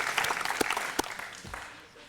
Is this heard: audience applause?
yes